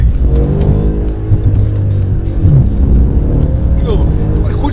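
A 2015 Mercedes-Benz S63 AMG Coupe with 577 horsepower accelerates hard in Sport mode on streets in Tuscany, its loud engine roar rising and shifting through gears close by, with a voice speaking over it.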